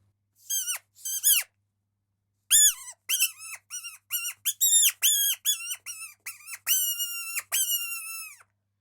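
A reed fox caller blown to imitate a distressed rabbit gives a run of about fifteen sharp, high-pitched squealing wails, close and loud. The first two come in a short burst, then after a pause the rest follow in a steady, insistent series with no talk.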